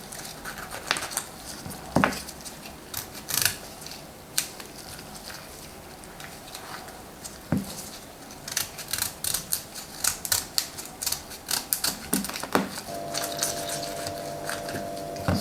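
An artichoke is peeled by hand with its leaves pulled away, giving close, crisp snapping and tearing clicks in irregular bursts, with a short steady tone near the end and no talking.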